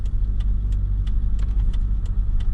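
A car cruises at 110 km/h in fifth gear at about 2500 rpm, its engine and road noise a steady, loud low drone inside the cabin with faint light ticks and no talking.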